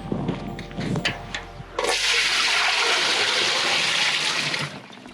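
Water drawn for washing from a source at a fire-damaged village homestead: after some faint clatter, a loud, steady rush of pouring water runs for about three seconds, then stops abruptly.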